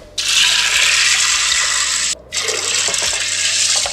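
Water poured into an Instant Pot over dry navy beans, two close splashing pours with a brief pause between them, the second a little lower and gurgling.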